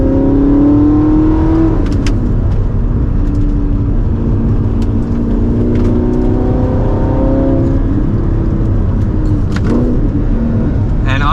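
An Audi R8 engine revs and accelerates with a rising, throaty exhaust drone that stays loud and close throughout, with pitch climbing in repeated surges.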